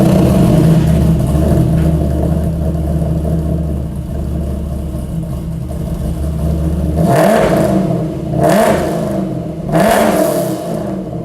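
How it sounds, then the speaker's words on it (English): A 1998 C5 Corvette fitted with Borla S-type exhaust idles with a deep burble, then is revved in two sharp, loud blips that fall back to idle, close by with no talk. "as much as I love the sound of that straight pipe, exhaust, I did pick up a set of Borla S-types."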